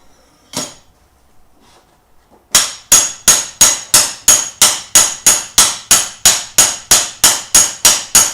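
A single strike, a pause, then a steady run of loud, ringing hammer blows on metal at a forge while forging a turkey leg, at an even rhythm, close up.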